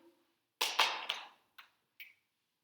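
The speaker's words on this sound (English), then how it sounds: "So we'll write it down." A pencil scratches across paper in a few quick strokes, a burst of three close scribbles followed by two shorter marks, near and alone in a quiet room.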